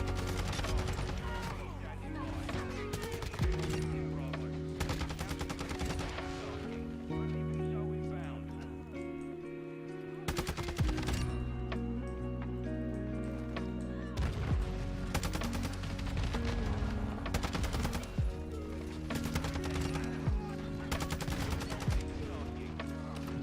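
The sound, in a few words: gunfire in video game Modern Warfare 2 on Shipment map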